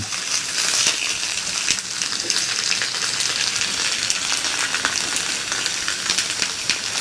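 A tri-tip roast sears in hot avocado oil, giving a loud, steady, close sizzle that crackles and spits without pause and with no voices over it.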